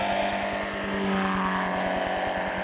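Model airplane engine in flight over a flying field at Skoger near Drammen, a steady droning buzz with a rapid regular pulse, holding at an even loudness throughout without talk.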